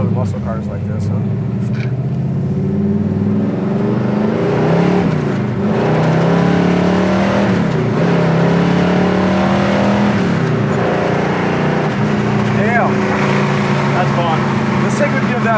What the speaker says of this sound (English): I love these good sounding muscle cars like this